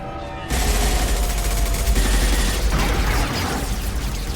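Sustained gunfire in the Mass Effect 2 video game, bursting in loud after a brief quiet start and rattling on continuously with dense, overlapping shots and heavy low booms.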